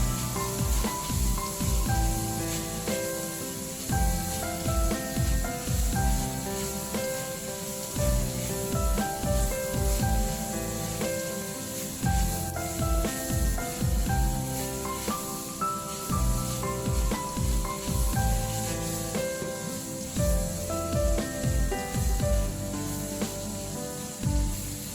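Green and red peppers stir-fried with cauliflower in a hot wok give a steady, loud sizzle with rhythmic scraping and clinking of the spatula against the metal throughout.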